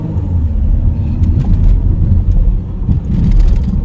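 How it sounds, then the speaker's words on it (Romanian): A Renault Espace rolling over tram tracks, heard from inside as a loud, steady road rumble with a few brief knocks and rattles from the suspension near the end. "În curând trecem peste linie de tramvai, vreau să văd suspensiile la această mașină."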